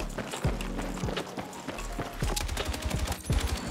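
An L110 machine gun in the video game Battlefield 6 fires while the player runs: rapid, uneven bursts of gunfire crackle over a low, droning game background.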